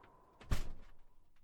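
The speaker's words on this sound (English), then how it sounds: "Close the door." A door being closed during a snowstorm, a single sharp thunk with a short ringing tail, heard close and alone amid faint background.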